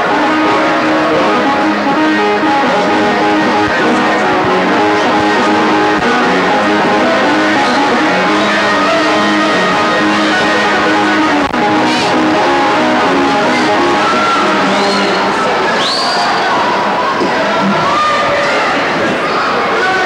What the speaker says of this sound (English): the crowd getting impatient.